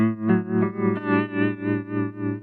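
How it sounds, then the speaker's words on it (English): A sustained, steady electric guitar chord through a Chase Bliss Audio Warped Vinyl chorus pedal has a smooth, rapidly swirling wobble, rising and falling in regular pulses, heard alone with no talking. "if we adjust the RPM, we can make our chorusing faster"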